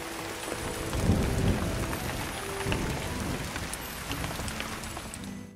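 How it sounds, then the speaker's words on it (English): Steady rain pours down with low rumbles of thunder rolling through, a dense, continuous storm wash with no voices. "a ferocious storm could instantly be heard and seen outside"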